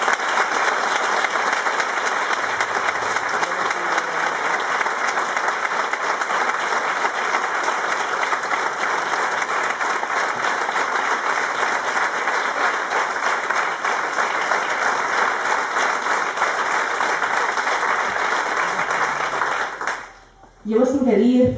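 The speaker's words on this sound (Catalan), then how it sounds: "us demane que li fem un calorós aplaudiment per si arriba" Warm, sustained applause fills a hall at a Compromís party gathering in Marina Alta, a dense, even clapping that runs about twenty seconds before cutting off abruptly, followed by a brief voice.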